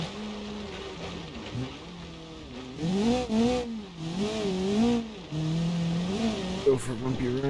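A rally car in BeamNG.Drive revs up and down as its gearbox hunts between gears, the engine note repeatedly rising and dropping in uneven surges, close and prominent.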